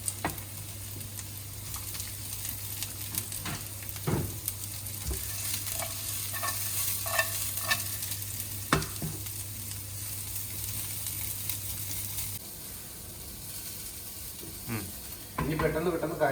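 Carrot and capsicum stir-fried in a pan for chicken fried rice: steady close sizzling with scraping stirs and a few sharp utensil knocks, and a brief louder burst near the end.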